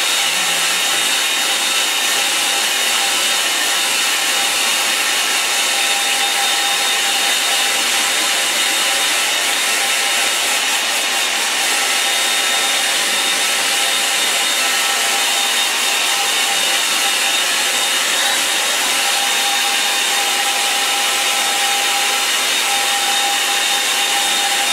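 A hair dryer blowing on a watercolour painting of a snowy north-east Norfolk scene, a steady, continuous airy whir with a faint motor whine, loud and unbroken throughout with no talking.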